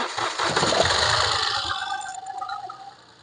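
A 2015 Mahindra TUV300 T8 diesel cranks and catches, roaring up loudly before settling into a rattly idle that fades slightly toward the end.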